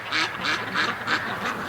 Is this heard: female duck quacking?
yes